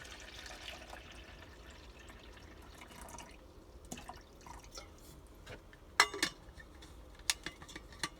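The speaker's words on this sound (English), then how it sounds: "I'm going to get 12 ounces of water." Tap water trickles and drips into a measuring cup inside a camper van, a soft steady pour broken by a few sharper splashes and clinks near the end.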